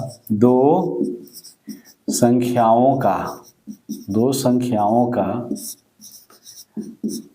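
Pen strokes scratch across paper as a maths solution is written out, short scribbling bursts that come and go beneath a man's steady, loud explanatory speech.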